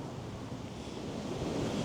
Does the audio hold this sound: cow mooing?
no